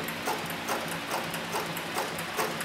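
A Cowboy 105 leather sewing machine runs at its slowest servo-motor speed, stitching two layers of soft 4–5 ounce upholstery leather with a steady, evenly spaced thump of the needle about twice a second over a constant motor hum.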